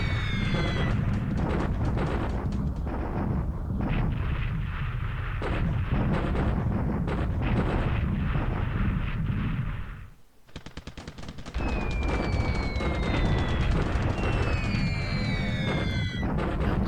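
Dense rumbling explosions and rapid gunfire roar almost continuously as bombs and torpedoes strike warships in the War in the Pacific game, easing into a brief lull before whistling falling bombs and more blasts resume.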